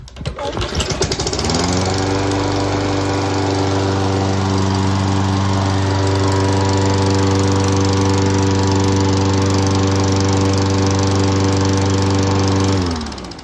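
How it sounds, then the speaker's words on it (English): A 2011 Craftsman lawnmower, model 247.37, with a freshly cleaned carburetor, cranks and catches within a second or two. It then runs at a loud, steady, buzzing engine note close by, with no talking. "This is the lawnmower, and it is working awesome."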